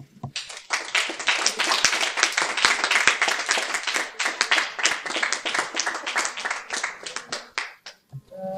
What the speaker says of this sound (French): nous allons applaudir le pasteur Émilie